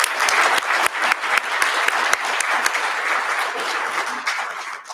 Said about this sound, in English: If we could give them a round of applause